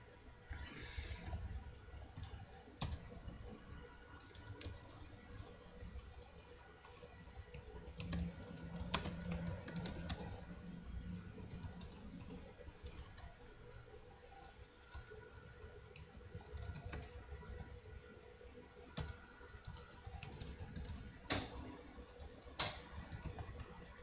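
Steady typing of a shell script on a computer keyboard, continuous soft key clicks at an uneven pace through a quiet room, with no talking.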